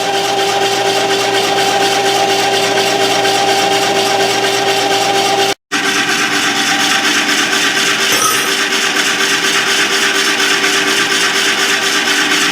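Electric ice cream maker churning a homemade batch, a loud steady motor hum and whirr throughout, broken by a brief cut partway, with no voices.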